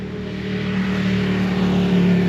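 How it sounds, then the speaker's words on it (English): A Ducati motorcycle rides along a slick, wet road, its engine a steady, loud, tonal drone that swells slightly over two seconds, with no speech. "There's a brave soul riding his Ducati on a slick day."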